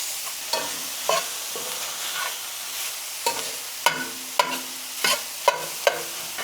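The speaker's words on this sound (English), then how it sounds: "make sure you also keep breaking this sausage into smaller pieces" Crumbled sausage fries in a pan for a Thanksgiving stuffing, a steady close sizzle broken by repeated scraping stirs as a utensil breaks the meat into smaller pieces, with no talking.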